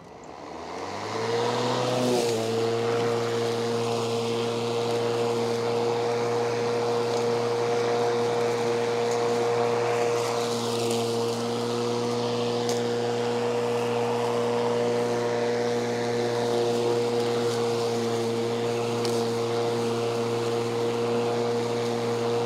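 A Ryobi battery-powered lawn mower spins up and settles into a loud, steady motor whine with a constant pitch, heard close and continuous without talk.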